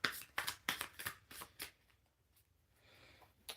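Tarot cards are shuffled by hand in quick riffling bursts, several sharp flutters close up in the first half, then quieter rustling before one last soft snap, with no voice.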